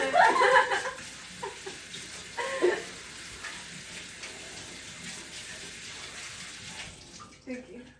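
Tap water runs into a kitchen sink during baking, a steady faint hiss with a few louder splashes near the start, with voices talking over it.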